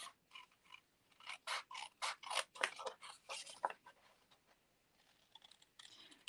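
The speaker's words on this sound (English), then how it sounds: "now I'm going to use my scissors." Scissors cutting through card stock and paper in a papercraft session, a run of crisp, rhythmic snips close by, then quieter rustling and a few last cuts.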